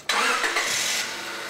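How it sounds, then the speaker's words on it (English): A car engine cranks and catches after a radiator flush setup, a sudden close starter burst settling into a steady idle within about a second. "Start the engine"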